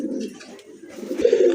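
Pigeons kept for sale by a breeder make soft, low cooing close by, with short throaty murmurs repeating without pause.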